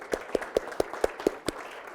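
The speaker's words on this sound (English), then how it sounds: "let's give Dr. Brown a real round of applause" Seven evenly spaced hand claps in a slow, steady rhythm, fairly close, like a single pair of hands rather than a crowd.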